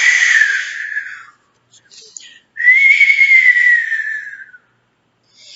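A storyteller's voice imitates a giant whistling up the wind with two long, loud, breathy whistles that slide downward in pitch, separated by a short pause.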